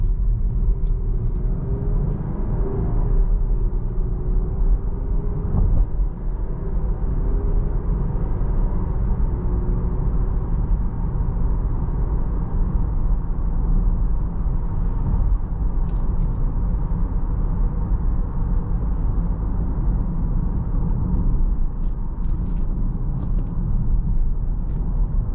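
A 2022 Jeep Grand Cherokee SUV driving on a road, heard from inside as a steady low engine and road rumble that continues evenly throughout.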